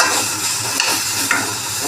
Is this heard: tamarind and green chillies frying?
yes